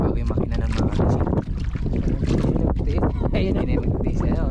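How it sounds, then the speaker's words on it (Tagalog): A motor boat engine runs loudly and steadily for the whole stretch, mixed with heavy wind buffeting the microphone and voices talking over it. "yung bangka na yan, yung makina na yan, yung bago-bago"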